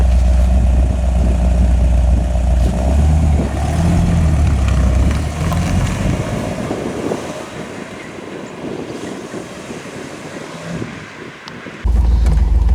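Road test of a classic car in a workshop that services V8-engined models: a continuous low engine drone mixed with road and wind noise that gradually quiets, then rises abruptly near the end.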